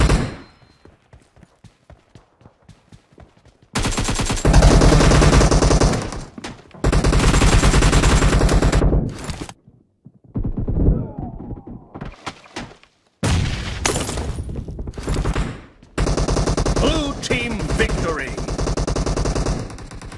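Loud bursts of automatic gunfire in PUBG Mobile, long dense volleys separated by short gaps, with a stretch of rapid single shots at the start.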